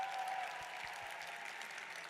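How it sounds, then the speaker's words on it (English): Audience applause at an esports awards ceremony in Kazakhstan, a steady wash of clapping from a large crowd held at an even level throughout with no voices over it. "a big round of applause for all of the people in Kazakhstan"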